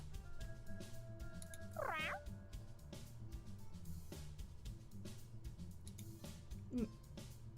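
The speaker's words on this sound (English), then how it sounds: "I love hearing the little meows and the purrs that the cats do" Two short meows from a cat in a video game, one near the start and a fainter one later, over a low steady ambient hum with soft clicks.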